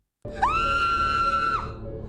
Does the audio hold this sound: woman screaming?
yes